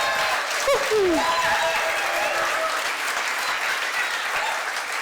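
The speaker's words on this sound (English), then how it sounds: "This is an applause." A crowd at an Entente Florale Europe awards ceremony applauds steadily and evenly for several seconds, with a short whistle-like sweep rising near the start.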